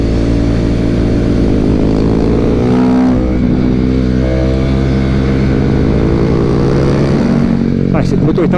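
A KTM RC 390 sport motorcycle, 2022 model, rides through a run of corners, its engine note droning loud and steady with harmonic bands rising and falling as the revs shift.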